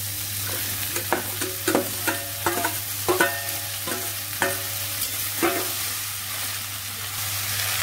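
Bottle gourd that was boiled beforehand goes into hot oil with fried spices and is stirred: a series of sharp scraping spatula strokes over a low, continuous sizzle, close and fairly loud.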